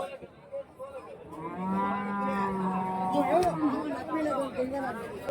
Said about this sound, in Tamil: இந்த சந்தையில் வந்து பார்த்தீங்கன்னா நாட்டு மாடு வாங்கலாம்